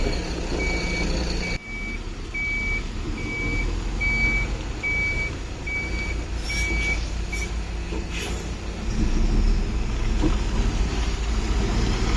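A truck's reversing alarm beeps in an even, repeating pattern as the vehicle turns in a tight spot at a road-tarring site in Kappad, over a constant low engine rumble.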